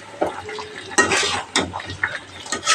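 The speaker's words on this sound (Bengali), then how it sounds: "আমি এগুলো আবার একটু লাড়াচাড়া দিয়ে দিলাম, একটা কাঁচামরিচ, টমেটো এগুলো দিয়ে" Boiled vegetables stirred in a pot with a green chili and tomato, giving sharp metallic scrapes and clinks of a spoon against the pot over a faint sizzle, in short irregular strokes.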